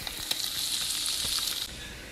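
Pork ribs browning in their own rendered fat in a pan, a dense close sizzle with a few stirring clicks, steady for a couple of seconds before easing off, no voices.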